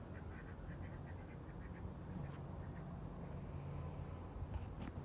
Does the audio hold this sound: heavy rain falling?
no